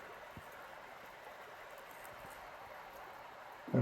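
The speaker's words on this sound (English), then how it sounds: "It's just water running everywhere this time of year." Small creek runs in a faint, steady hiss of flowing water outdoors in early spring, continuous and fairly distant, ending with a brief louder bump.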